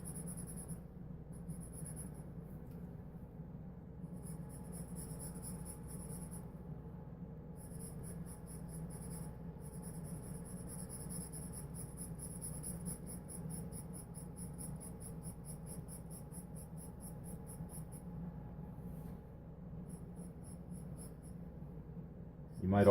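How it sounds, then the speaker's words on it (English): A pencil held sideways shades across paper during a fantasy art drawing, giving a steady, soft, scratchy rubbing that runs almost unbroken, close and fairly quiet. "You might also notice that I'm using the pencil kind of sideways."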